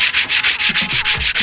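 Sandpaper is rubbed back and forth across a car brake pad to grind off hard spots, giving a loud, close rasping scrape in steady rhythmic strokes, about ten passes with no talking.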